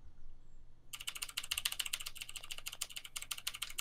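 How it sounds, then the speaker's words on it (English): Rapid typing on a mechanical keyboard, a fast, loud stream of sharp clacky keystrokes that starts abruptly after a moment of near silence and runs continuously close to the microphone. "Listen to my mechanical keys."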